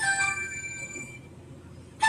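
A phone rings with an electronic tone in a short trill at the start, then goes quiet and starts ringing again near the end. It is moderately loud indoors over faint room noise.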